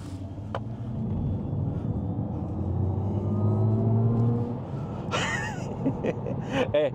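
Electric hatchback, an Alpine A290 GTS or Mini Cooper SE JCW, accelerating hard around a damp roundabout outside town, its motor whine rising in pitch over road rumble, then tyres squealing and scrabbling for grip near the end.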